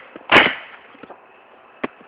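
Sharp pops from newly bought paintball guns, one loud close shot followed by a few fainter, scattered ones with no talking.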